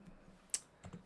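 A few computer keyboard keys are pressed during Blender rigging work for the Ctrl+P parent shortcut, giving one sharp click followed by two softer taps, close and quiet.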